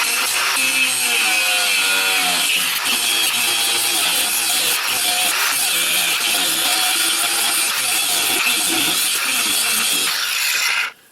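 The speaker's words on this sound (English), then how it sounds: "let me grind the head off of that a little bit" Grinder cutting the head off a stabilizer bar bolt on a 2001 Buick Century, a loud continuous abrasive whine and grinding roar that holds steady for about ten seconds and then stops abruptly.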